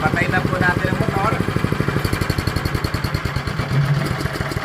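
A motor runs an animal feed shredding machine on a farm, chugging in a steady, fast pulsing rhythm. It is close and loud, with someone talking over it.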